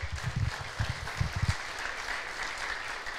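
Congregation clapping together during a church service, a burst of applause that peaks and then thins out into a low murmur of room sound.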